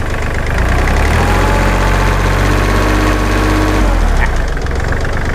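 A Kubota L3408 tractor's diesel engine idles loudly and steadily up close, with a rough, knocking rumble throughout.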